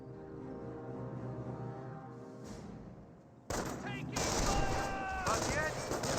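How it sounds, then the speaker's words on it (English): Rifle fire from American riflemen in the strategy game Company of Heroes, with gunshots crackling over a steady droning background that swells loudly halfway through, busy with overlapping battle noise. "bit of fire there from the riflemen"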